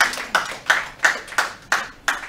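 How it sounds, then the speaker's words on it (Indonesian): Scattered clapping from a church congregation, about seven distinct, evenly spaced claps in a steady rhythm, fairly close, with no talk. "Loh, kok masih ada tepuk tangan?"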